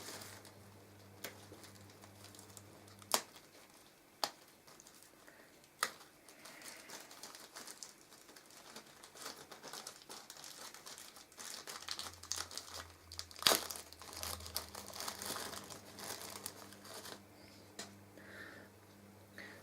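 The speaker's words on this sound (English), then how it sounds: "If I can get it out of the packet," An LED being pulled out of a plastic packet at a workbench, with soft crinkling and rustling throughout, several sharp clicks early on and a busier burst of crinkling near the middle.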